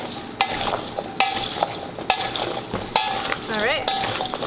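Sliced apples with sugar and lemon are stirred in a bowl, giving a series of wet scraping turns with sharp clinks of the utensil against the bowl roughly every second, close and clear.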